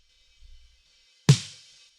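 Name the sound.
original recorded snare drum, trigger muted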